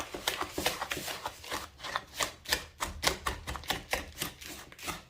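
A stand mixer paddle knocks clumps of molasses against the edge of a bowl while making homemade brown sugar, giving a close, steady run of rapid clacking thumps with no talking.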